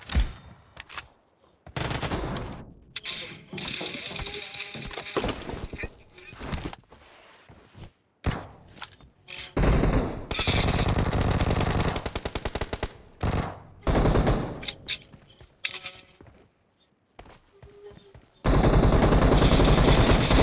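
Rapid bursts of automatic gunfire from the shooter game PUBG, loud and close, come in repeated volleys separated by short gaps, with a long sustained barrage near the end.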